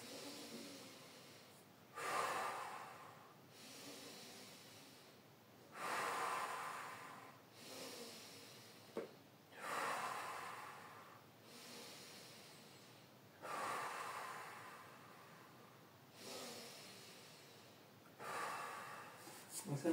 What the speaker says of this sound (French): c'est un exercice de respiration que je trouve très intéressant. La respiration cylindrique.